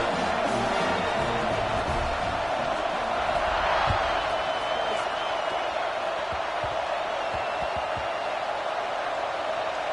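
Dense, continuous roar of a stadium crowd at a football game during a kickoff, loud and sustained with scattered whoops and shouts rising from the noise.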